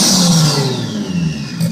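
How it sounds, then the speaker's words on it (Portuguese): Turbocharged car on 2-step launch control, engine held at high revs with a rough, crackling exhaust note and a falling whine, loud and close with no talk. "Então, essa pipocada toda, galera, no sistema de escape"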